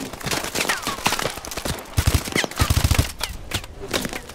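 Rapid bursts of automatic gunfire in Call of Duty: Advanced Warfare, set in a Detroit mission, crackling loud and close in repeated volleys with no talk.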